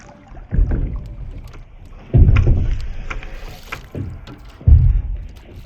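A handmade canoe paddled on open water, with four or five distinct, evenly spaced paddle strokes splashing and swishing close by, and light wind and water ambience between them.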